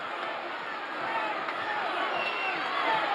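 Crowd uproar fills a wrestling arena during a Houston wrestling card, a dense, steady roar of many voices that swells slightly and stays loud throughout.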